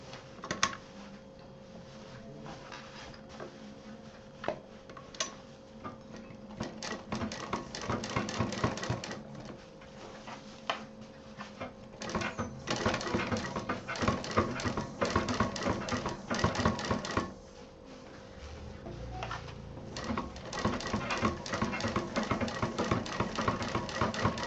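Sewing machine stitching along a finished seam of a DIY stylish handbag, running in steady rapid bursts of mechanical chatter throughout, close and fairly loud with brief pauses.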